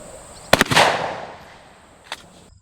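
A shotgun firing a standard-intensity number 4 buckshot load at a 15-yard target, one sharp loud blast with a brief echoing tail, followed by a fainter metallic click.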